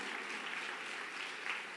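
A church congregation applauds during a sermon, a faint, even wash of clapping that carries steadily throughout without any voices.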